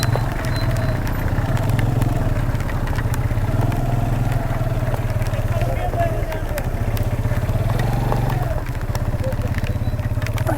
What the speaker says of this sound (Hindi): असल में मट्टी हो गई है ये गीली और बाइक हो रही है यहाँ स्लिप